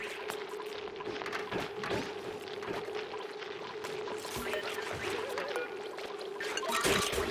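Water pouring in the video game Oxygen Not Included, a continuous soft rushing trickle with a steady tonal hum underneath, faint and unchanging throughout with a few small splashy ticks, no talking.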